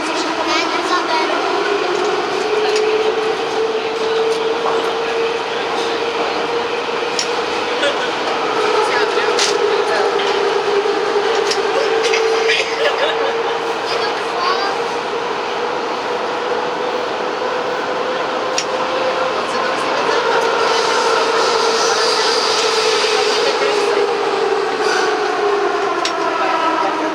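A heritage Ečs set on the Prague metro runs through a tunnel, its motors whining in long rising and falling tones over a loud, steady rush of rail and wheel noise.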